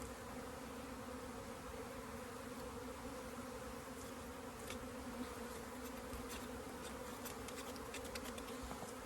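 Honey bees from a laying-worker colony buzz in a dense, continuous drone around an open hive, with occasional individual bees passing close by; no one speaks.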